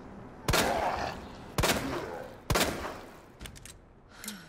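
In the Resident Evil 2 video game, three sharp, loud gunshots ring out about a second apart, each followed by a short echoing tail, then fainter clicks and noises.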